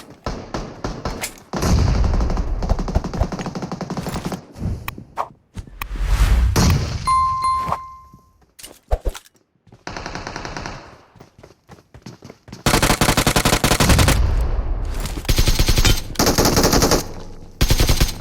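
An enemy sprays gunfire in PUBG Mobile: repeated loud bursts of rapid automatic fire start and stop in clusters, with a long sustained volley near the end and short quiet gaps and a brief chime between.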